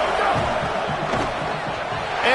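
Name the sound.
home crowd cheering at a football game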